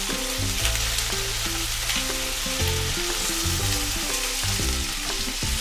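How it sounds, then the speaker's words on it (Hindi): Vegetables including yellow capsicum fry on high heat for veg jalfrezi, giving a loud continuous sizzle as they are stirred, with no voices. "आधा मिनट के लिए इसको भी भून लेंगे, पका लेंगे।"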